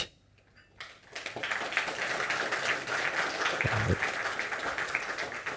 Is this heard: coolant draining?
no